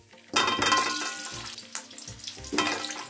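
Sweet potato and other vegetables hitting hot oil with panch phoron and dried red chillies in a pan, a loud burst of sizzling that swells and fades with stirring, cooking a Bengali gota chorchori.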